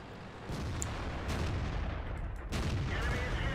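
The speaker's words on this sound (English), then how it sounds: "I put a shot into the KV4." A tank gun in World of Tanks fires at a KV-4, with several heavy booming shots spaced about a second apart, each trailing a rumbling roar over constant battle noise.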